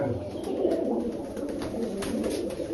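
A pigeon coos softly in low, rolling murmurs, repeated several times and fairly quiet against a faint background hum.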